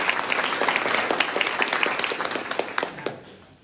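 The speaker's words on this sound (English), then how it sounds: "we need to give them a real big round of applause" A luncheon audience at a community gathering gives a moderate round of applause, with individual claps distinguishable in the spread-out clapping before it tapers off.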